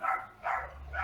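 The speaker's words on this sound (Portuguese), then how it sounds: "Tem um cachorro latindo em eco ainda," A dog barks three times with a reverberant echo, evenly spaced, moderately loud and heard alone.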